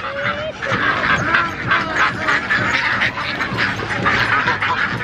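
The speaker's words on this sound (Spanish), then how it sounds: "Miren la cantidad de patos que hay aquí en el Parque Moleros en Tijuana." A dense chorus of ducks quacking continuously and close by, many birds at once in Parque Moleros, Tijuana, with faint voices murmuring underneath.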